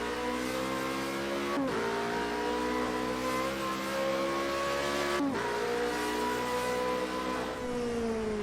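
Formula Renault single-seater race car on a snowy straight, engine revving hard and climbing through the gears, with two sharp gear-change dips breaking a loud, steady whine that stays close throughout.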